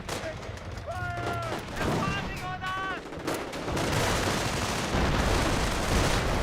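Gunfire and grenade blasts from a Company of Heroes battle crackle in dense bursts over a rumbling backdrop, with a commentator talking over the combat throughout.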